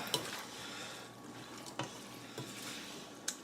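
A spoon scrapes and knocks through thick chili with chickpeas and diced tomatoes in a pot, a soft wet churning broken by a few sharp clacks against the sides, with no voices.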